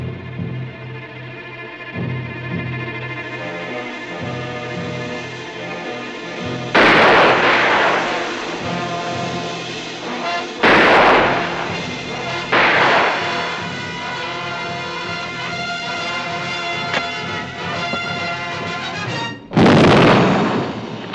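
Underwater grenade explosion set off by a tripwire, heard as several heavy muffled booms spaced over a steady droning background with no talk.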